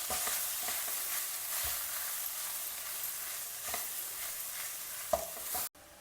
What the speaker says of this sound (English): Keep the flame low and mix everything well together.